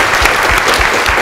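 An audience applauding after a moot court argument, loud and close, with brisk, dense clapping that fills the room across a short burst.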